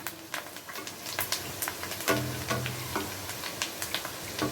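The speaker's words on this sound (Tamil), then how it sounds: "பூண்டு நல்லா வதங்கி வந்துக்கிட்டு இருக்குது" Garlic and curry leaves frying in oil, a close crackling sizzle with frequent sharp pops and a brief louder stir in the middle.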